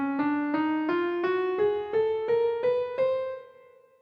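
A sequence of clean, tonal notes climbs a scale one step at a time, about ten even beats, each note ringing briefly before the next.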